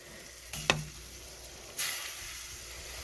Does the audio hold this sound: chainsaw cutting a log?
no